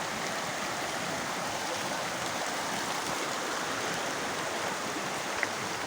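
A river flows with a steady, even rush of water, a constant broadband wash heard close by at an outdoor riverside picnic.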